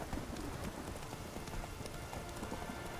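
A horse's hooves clip-clop at a steady trot in The Witcher 3 video game, fairly quiet and mixed with a soft rain-like wash in the background.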